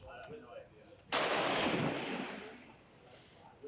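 A single loud gunshot at a shooting competition cracks out close by and rolls into a long booming echo that fades slowly, with faint background noise before it and no talking.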